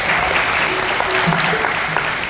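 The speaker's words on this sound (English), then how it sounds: "Give him a nice round of applause." A bluegrass concert audience at ETSU applauds, a loud, dense wash of clapping that runs without a break from start to finish, with a voice faintly audible under it.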